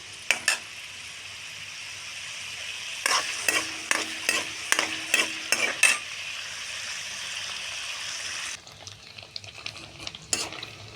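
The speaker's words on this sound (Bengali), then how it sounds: "প্রথমে আমি এখানে পনির হালকা করে ভেজে নিচ্ছি।" Paneer fries lightly in a pan with a low sizzle, broken by a quick series of sharp scraping and clicking stirs from a utensil.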